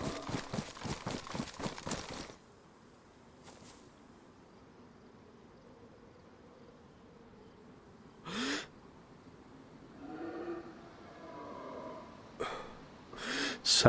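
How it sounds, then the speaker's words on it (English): Male deer (stag) call in the DayZ video game, a harsh snorting bellow heard in a few separate bursts against quiet game ambience, after some clattering at the start. "That's a male, that's a stag."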